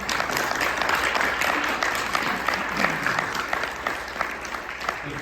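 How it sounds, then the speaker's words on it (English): A large audience applauds steadily after a talk on strategy from the Mahabharata, a dense sustained wash of clapping with no voices over it. "can you give a big round of applause?"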